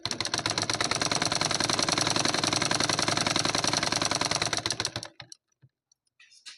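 A sewing machine stitching a cotton blouse lining runs in a steady, rapid mechanical chatter, close and even for about five seconds, then stops, leaving a few faint clicks.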